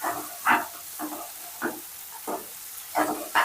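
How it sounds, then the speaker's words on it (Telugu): Okra fry stirred in a pan with fresh coriander and curry leaves, giving short scraping, sizzling bursts at an uneven rhythm, close and moderately loud with no talking. "కొత్తిమీర, కరివేపాకు వేసుకొని కలిపేసేయాలి బాగా."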